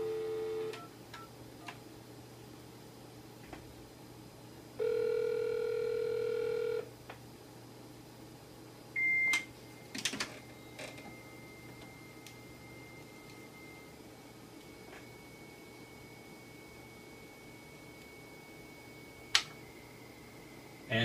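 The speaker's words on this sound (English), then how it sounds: "use a phone and dial the number and then put the handset on the cradle" A telephone is dialed with short touch-tone beeps, then a 300 baud acoustic modem connects, sending steady whistling carrier tones and later bursts and clicks, heard close with no talking.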